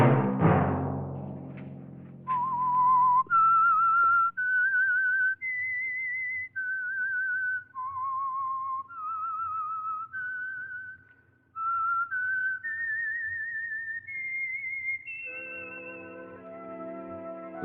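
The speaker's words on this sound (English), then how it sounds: "Let that whistle be your signal for the Signal Oil program, The Whistler" Whistled signal tune for The Whistler radio program: a lone, clear human whistle climbing and falling through a slow melody of held notes, opening after a brief orchestral chord and ending on a sustained tone with accompaniment.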